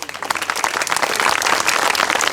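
Thin, scattered clapping from a small crowd at a coaching session in India, a steady patter of hand claps running throughout without a clear break.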